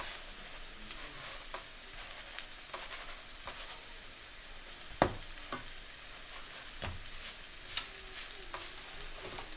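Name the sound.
burger buns frying in butter in a pan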